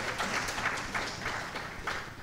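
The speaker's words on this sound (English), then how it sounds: "but applaud" Audience applause at the @party 2015 demoparty prizegiving, a steady wash of many hands clapping with no voices over it.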